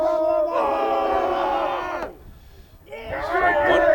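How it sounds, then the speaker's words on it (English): Loud, boisterous crowd at a high school varsity baseball game, with sustained whooping and cheering from the dugout for about two seconds, then a brief lull before the voices swell up again. "They are a very boisterous crowd"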